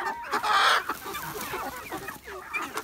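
Several native criollo hens cluck and squawk together in a busy, continuous chatter while eating alfalfa, close and fairly loud, with overlapping calls and no speech.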